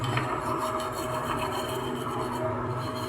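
A brush loaded with thinner scrubs across a circuit board near the CPU, giving a soft, continuous close-up rubbing and bristle scratch over a steady low background hum.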